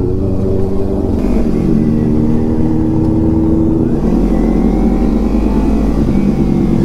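A sport motorcycle engine drones loudly and steadily throughout a ride, with surging revs and a shift in pitch partway through, and no voices.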